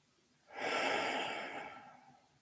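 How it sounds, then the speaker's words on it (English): One slow, soft exhale rises and gradually fades over about two seconds, close to the microphone in a quiet room. "And again, release the breath."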